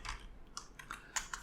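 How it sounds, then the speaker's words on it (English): Quiet typing on a computer keyboard: a handful of light, irregular key clicks close by in a hushed room, with no voices. "I'll go here and type in localhost"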